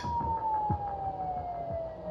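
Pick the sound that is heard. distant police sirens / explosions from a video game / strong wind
distant police sirens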